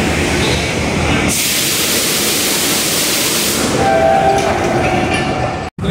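Tezgam Express passenger train at Lahore railway station, a steady loud roar of rolling cars and rushing noise that holds throughout, with a faint horn-like tone near the end.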